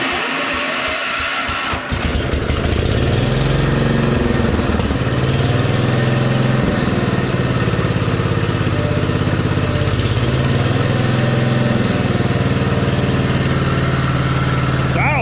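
A Power King tiller engine sputters and catches after being choked, then runs loud and close with a steady, rough, chugging idle that dips briefly once before settling.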